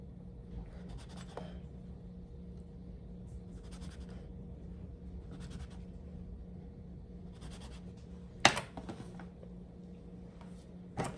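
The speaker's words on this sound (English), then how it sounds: "I'm going to use my 3-inch cookie cutter for this batch. And we are just going to cut those out." A 3-inch cookie cutter pressing through rolled sourdough English muffin dough, soft scraping and pressing sounds in separate spaced strokes, with a sharper knock of the cutter near the end, close and quiet.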